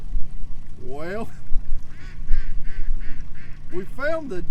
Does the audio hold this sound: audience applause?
no